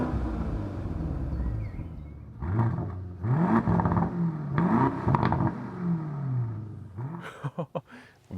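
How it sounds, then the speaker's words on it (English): A luxury performance SUV, either an Audi RS Q8 or an Aston Martin DBX, revs its engine in several close, loud blips with rising and falling exhaust pitch, ending in quick sharp throttle stabs. "Vote for your favorite exhaust note."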